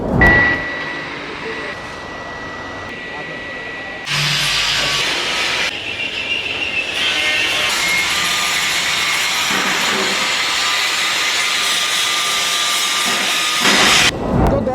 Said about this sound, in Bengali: আমার পিছনে দেখতে পাচ্ছেন যে এসএমআর এর নিজস্ব ইন্ডাকশন ফার্নিশ মেশিনে লোহা গলানো হচ্ছে